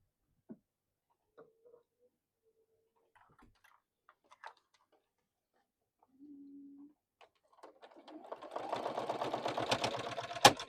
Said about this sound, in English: we're going to sew across the end, straight down the middle, and across the end.